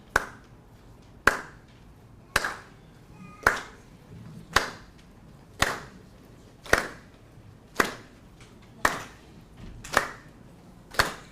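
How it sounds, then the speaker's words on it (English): An audience does a slow clap on a single beat during an echo song, sharp unison claps landing evenly about once every second, each with a short ringing tail in a reverberant room, no voices heard. "we're also gonna try and do a little slow clap"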